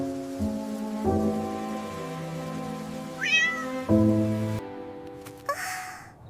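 A mother cat meows several times, rising and falling cries clearly audible over soft steady rain and a sustained musical backing.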